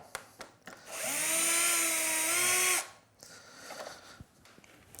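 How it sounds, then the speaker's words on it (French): Power screwdriver removing an existing door strike plate from a door frame, one loud steady whirring burst of about two seconds, close, between quieter handling clicks. "Ici, on va retirer donc la gâche existante."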